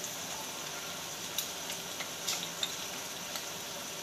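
Tomato cooking in a pan for egg bhurji sizzles softly and steadily, a faint constant fry with a few small pops and ticks and no voices.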